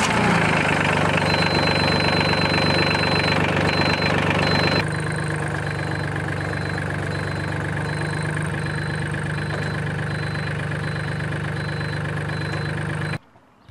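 A Solis 26 tractor's diesel engine starts and settles into a steady, loud, close idle with a constant rumble, then cuts off abruptly at the end.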